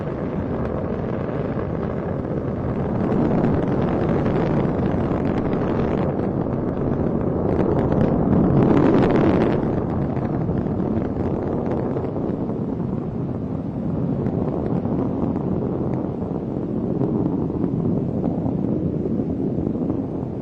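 Space Shuttle Endeavour's rocket engines roar during liftoff and ascent on mission STS-123, a steady, dense, broadband rumble that swells slightly midway and runs unbroken, heard from a distance with wind buffeting the microphone.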